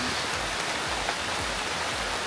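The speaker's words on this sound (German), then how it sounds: "es regnet wieder mal." Rain falling in Místico Park in Costa Rica, a steady, dense hiss of drops pattering on surfaces, moderately loud and unbroken, with no voices.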